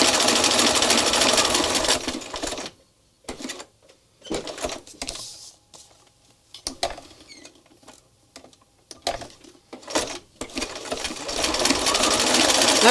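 A sewing machine stitches across the corners of an art journal postcard, giving loud rapid rattling bursts of stitching separated by short pauses and near-silent gaps, with no voices.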